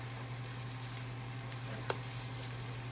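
Roasted tomatoes and basil cook in a pan, giving off a faint, steady low sizzle, with one brief soft knock from stirring.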